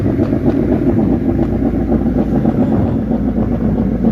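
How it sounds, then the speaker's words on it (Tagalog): On a Montenegro Lines ferry running from Batangas to Mindoro, the ship's large exhaust stack and engine give off a loud, continuous low roar with a dense, steady rumble and no pauses. "Laki ng tambotso. Napakaingay."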